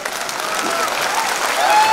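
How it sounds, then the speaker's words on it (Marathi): Audience applause breaks out during a political speech by Ajit Pawar, a steady, dense clapping from a large crowd that holds loud and even for two seconds with no talk over it. "किती तुम्ही किती टाळ्या वाजवा"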